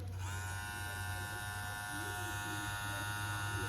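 Babyliss CustomFX electric hair clippers, 7,200 RPM, hum steadily at close range, a constant buzzing drone with a high whine that runs without a break.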